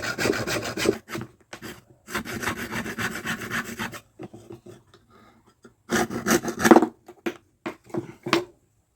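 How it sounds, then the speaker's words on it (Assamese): A hacksaw cuts through bamboo while a Bihu pepa horn is being made. The rasping strokes come in close, steady bursts separated by short pauses and a quieter stretch of lighter scraping. "এতিয়া হেকচু এখন দি পেলাই এইটো ইয়াতে আমি কাটিম।"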